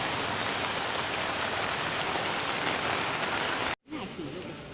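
Heavy rain pours down at Khua Din market in Vientiane, Laos, a dense, loud hiss that continues steadily, then cuts off abruptly near the end and gives way to quieter background sound with faint voices.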